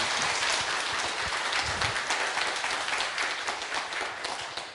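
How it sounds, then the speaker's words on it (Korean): Audience applause welcoming a visiting Buddhist studies professor to a lecture hall: dense, sustained clapping from a crowd, steady and fairly loud throughout, with no voices on top. "우리 치엔테린 교수님 크게 환영하는 박수를 드리겠습니다."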